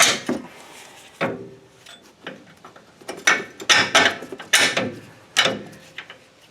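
Metal clunks and ratcheting clicks of bolts being fitted into a control arm during ball joint replacement on a Mitsubishi Raider/Dodge Dakota truck, a series of sharp, close knocks and scrapes spaced irregularly over several seconds.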